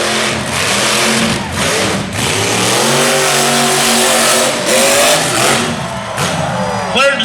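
Chevrolet truck-pulling engine at a truck pull event, revving loudly in repeated surges with rising and falling pitch, close and powerful, with a voice talking over it.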